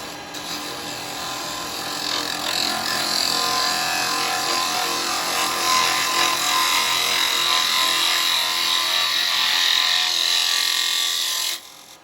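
A carbide woodturning tool makes a shear cut across a rough firewood bowl spinning on the lathe, giving a steady, fairly loud hiss and whirr that runs without a break for about eleven seconds and then stops sharply.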